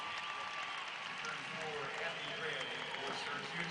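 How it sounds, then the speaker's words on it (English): Crowd applause for a standing ovation at a Syracuse basketball game, a sustained wash of clapping and cheering heard at moderate distance, with a voice speaking over it. "As Gabby Cooper leaves to a standing ovation from the Syracuse crowd."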